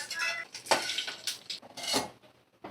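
Fried coconut and curry leaves scraped and spooned from a pan into another pot, a few clinking metal utensil knocks and scrapes against cookware, close and moderately loud with short pauses between.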